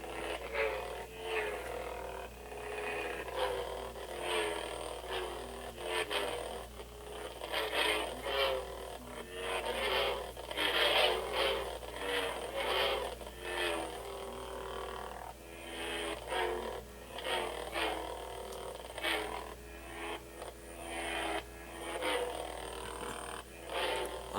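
A Kit Fisto Force FX lightsaber hums with a constant low drone in a darkened room, while repeated swings add crackling, rising and falling whooshes that come and go throughout.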